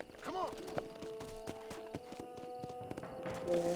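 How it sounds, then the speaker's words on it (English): Horse hooves clip-clop in a rhythmic, steady walk in Red Dead Redemption, a game set in the Old West, with a voice speaking over the hoofbeats. "Deve ser um cavalo, né?"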